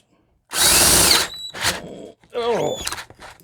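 A cordless drill with a 5/8 bit bores through a sacrificial piece in one loud close whine lasting under a second, followed by a shorter burst and speech.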